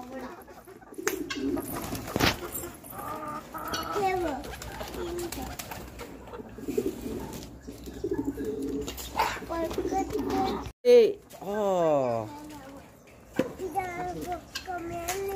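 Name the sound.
pigeons cooing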